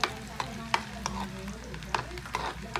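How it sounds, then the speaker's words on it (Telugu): Ginger fries in a pan for a chutney, a soft sizzle under repeated scraping strokes of a spoon stirring at a steady pace. "ఈ అల్లం కొంచెం ఫ్రై అయిన తర్వాత ఇవి కూడా వేసేసుకున్నాం."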